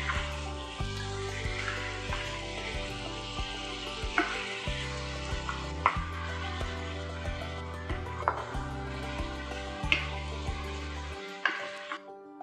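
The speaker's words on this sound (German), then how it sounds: "Das Fleisch anbraten." Beef with ginger slices and five-spice powder sizzles steadily as it sears in a hot pot, with occasional stirring clatters, while soft background music plays underneath; no talking.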